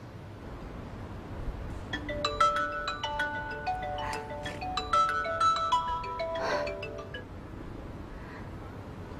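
A mobile phone ringtone plays a bright, tinkling melodic tune of repeated chiming notes for several seconds, moderately loud over a quiet room background.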